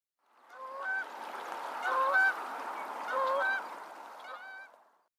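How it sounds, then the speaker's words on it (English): Canada geese at a marsh wildlife refuge honk repeatedly in a loud, overlapping chorus of nasal calls that swells and fades over several seconds. "The Canada geese burst into honking music as soon as they see us"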